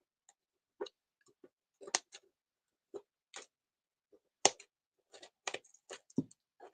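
Scissors, once dressmaking shears, trim paper circles cut from a recycled Pringles can: a quiet, near run of sharp individual snips and clicks spaced irregularly, with short silent gaps between cuts.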